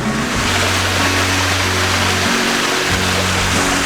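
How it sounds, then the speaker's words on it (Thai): Steady rushing of flowing water from the first tier of Ang Chang Nam waterfall, running low, fills the clip, with a continuous broadband roar and a low hum underneath. "นี่เป็นน้ำตกชั้นที่หนึ่ง ก็จะมีน้ำไหลประมาณนี้แหละ"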